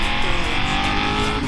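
A race car at an autoslalom event roars past close by, its engine loud and droning with a steady high rev, filling the short moment.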